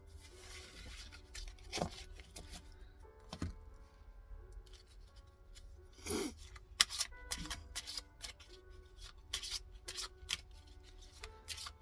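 Tarot cards handled and covered on a table, with soft rustles, slides and sharp flicks coming in irregular bursts, close and fairly quiet, no talking.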